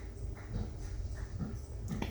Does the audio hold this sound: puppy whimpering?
yes